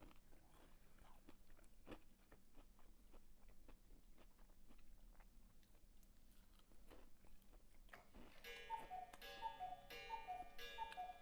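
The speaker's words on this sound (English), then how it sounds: "There goes my cuckoo clock." A cuckoo clock ticks steadily in a quiet room amid faint chewing sounds, then its chime rings out in a bright repeating melody near the end.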